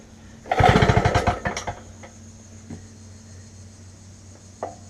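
Vintage Homelite generator engine with the choke off, set wide open: a loud, rapid chugging burst for about a second that sputters and dies away, followed by quiet background hum and a faint later knock.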